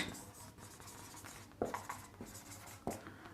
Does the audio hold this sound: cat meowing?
no